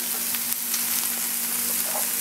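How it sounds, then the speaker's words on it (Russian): Onions frying in a pan in a home kitchen, a steady close sizzle and crackle with no voices. "Я обжариваю лук."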